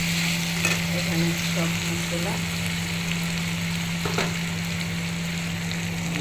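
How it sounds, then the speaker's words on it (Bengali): Sliced onions browning with tomatoes in a pan for a chicken curry cooked in ghee, a continuous sizzling fry with a few clinks of stirring and a steady low hum throughout. "এখানে পেঁয়াজের বেরেস্তা করছি, টমেটো ভাজছি"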